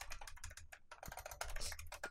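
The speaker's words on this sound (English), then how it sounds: "I missed the T key when I started typing." Rapid typing on a computer keyboard, a close, crisp flurry of uneven key clicks and taps running continuously with only brief gaps.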